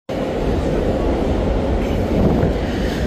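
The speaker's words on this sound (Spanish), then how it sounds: "Justo está llegando uno de los trenes." A Chicago L train pulls into Belmont station, a loud, steady rumble and rush of rail noise with wind buffeting, continuous from start to end.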